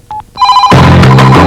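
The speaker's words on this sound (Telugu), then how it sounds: "ఫోను మోగుతుంది." A telephone rings loudly in a Telugu film scene: two quick electronic chirps, then a sustained, bright ringtone pattern filling the rest of the moment, with no talking.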